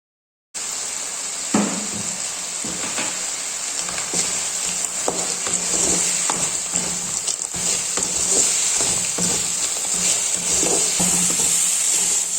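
Fried idli pieces tossed and stirred in a hot pan with soy sauce and chilli for idli manchurian, a steady loud sizzle with scraping spatula strokes and occasional clanks, no voices.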